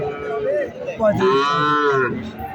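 A cow gives a long, loud moo up close at a cattle market, rising and then fading, over faint background noise.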